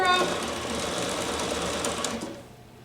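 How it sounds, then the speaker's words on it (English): A sewing machine stitches fabric in a short, steady mechanical whir that fades out at the end, with a voice talking over it. "now we're going to sew that piece down"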